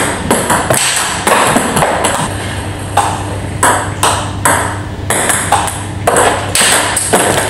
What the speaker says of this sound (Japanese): ループドライブと同じ回転のボールを速く打つドライブいかがでしたでしょうか